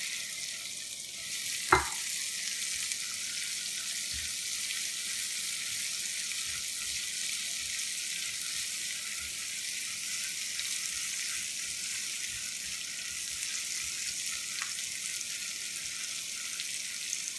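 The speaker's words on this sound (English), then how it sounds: "putting the onions in a hot pan. Give that a stir quickly." Onions fried and stirred in a hot pan for chili paneer, a steady broadband sizzle running throughout with a sharp utensil clink near the start and another later, soft scraping stirs underneath.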